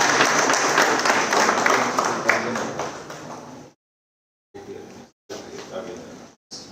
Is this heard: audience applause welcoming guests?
yes